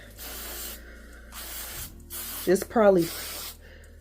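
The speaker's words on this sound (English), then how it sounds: "For my braids, I'm just gonna use this tea tree oil." Tea tree oil is spritzed from a spray bottle onto braids in a few short, soft hissing bursts, close by and quiet, with a voice making brief vocal sounds between sprays.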